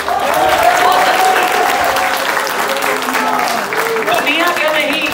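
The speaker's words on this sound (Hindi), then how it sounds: "मेरी तरफ से अपने लिए भरपूर तालियां बजा रहे हैं आप" Audience clapping at an Urdu poetry recital during a tech festival in Abbottabad: loud, steady applause filling the whole stretch, with a voice speaking over it and a musical tone near the start.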